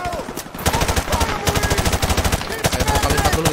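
Sustained bursts of M4 rifle fire from Call of Duty: Modern Warfare, rapid regularly spaced automatic shots in several strings with brief gaps, loud and close.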